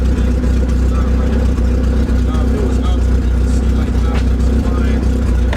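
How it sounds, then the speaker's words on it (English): A project Honda Civic engine, just fixed and running, is revved as it is run through the gears. Its loud, steady rumble stays close and continuous throughout, with no speech in the clip. "it's idling good, so I'm gonna just run it through the gears."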